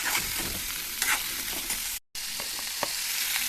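Potatoes and eggplant sauté in a hot pan with oil and spices: a loud, continuous sizzle and hiss with scraping spatula strokes, cut by a brief silent gap partway through.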